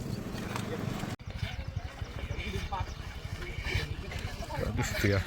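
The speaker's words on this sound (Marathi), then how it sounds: "आता डावीन कसा पळतोय चांगला" Bullocks galloping in a bullock cart race give off a rapid, steady drumming of hoofbeats, close and fairly loud, while someone talks over them throughout.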